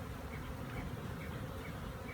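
A dense, steady buzzing of honey bees clustered around a swarm trap, continuous and close with no voices.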